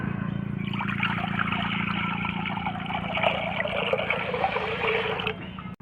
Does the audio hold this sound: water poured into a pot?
yes